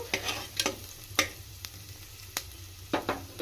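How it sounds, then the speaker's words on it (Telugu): Onion and two thinly sliced green chillies fry in a pan for a restaurant-style mixed dal fry, a soft steady sizzle punctuated by several sharp spatula strokes against the pan, heard up close and without talk. "onion fry అయ్యేటప్పుడే green chilli, 2 green chilli ఈ విధంగా సన్నగా కట్ చేసి వేసుకున్నాను"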